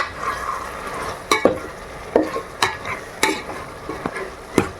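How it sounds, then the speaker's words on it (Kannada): A spice tempering for tomato bath sizzles in a pan while a spoon scrapes and stirs, giving sharp clinks and scrapes every half second or so over a soft continuous fry. "ಆಲ್ಮೋಸ್ಟ್ ಎಲ್ಲ ಒಗ್ಗರಣೆ ಹಾಕ್ಬಿಟ್ಟಿದ್ದಾರೆ."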